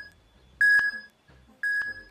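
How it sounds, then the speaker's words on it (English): A bomb counting down gives two sharp, loud electronic beeps about a second apart, each a steady tone with a click, over a faint quiet background. "Why is it beeping?"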